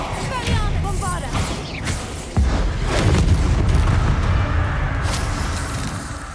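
A Bombarda blasting spell explodes in Hogwarts Legacy as a heavy, booming blast with a deep rumbling tail that fills the scene amid dense game sound effects.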